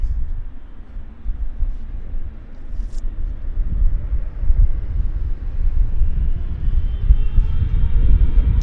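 An Air Canada Boeing 777 jet airliner at Vancouver Airport, bound for Toronto, gives a broad, steady low roar that swells gradually over several seconds, heard at a distance with wind rumble and no talking.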